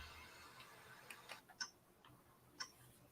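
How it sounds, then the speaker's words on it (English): Faint, sparse ticking from a little sound box, a few light clicks spread irregularly over a quiet background with no talking. "what the hell's that ticking sound?"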